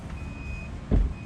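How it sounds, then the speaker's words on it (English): A thin electronic GPS alarm on the helm of a 2019 Sea Ray 280 SLX boat beeps steadily for a while, then sounds again briefly after a dull knock. Fairly quiet, no voices. "GPS alarm here on the helm."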